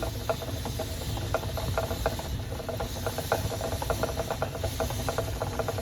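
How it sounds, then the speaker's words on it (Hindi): Water at a rolling boil, a steady close hiss with rapid bubbling and rattling pops throughout, no voices. "आपको खौलने का आवाज आ रहा होगा।"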